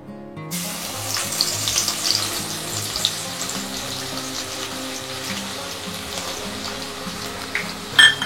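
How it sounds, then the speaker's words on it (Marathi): Crushed garlic cloves frying in oil for chivda, a steady, close hissing crackle that starts abruptly and continues evenly with light bubbling, no voices. "तर आता आपण लसूण तळून घेऊयात"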